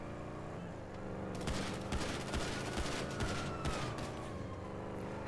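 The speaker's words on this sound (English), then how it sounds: "Let me get my combat pistol out." Combat pistol fire in GTA V crackles in a rapid run of sharp shots mixed with other gunfire, fairly faint and steady for several seconds over a background hum, with no talk over it.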